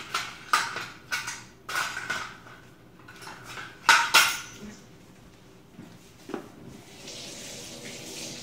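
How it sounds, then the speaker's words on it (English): A big mixing bowl and metal utensils clatter and clink in a home kitchen during bread making: scattered sharp knocks and rattles, with a louder cluster in the middle, then quieter handling. No one talks. "So we're going to get our bowl, our big bowl."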